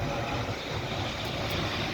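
Air Canada airliner passing overhead, a steady broadband engine roar with a low rumble that holds evenly throughout, fairly loud and with no talk over it.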